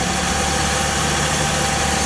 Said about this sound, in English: I think something in the exhaust system is messed up because you can hear the gargling noise that it makes.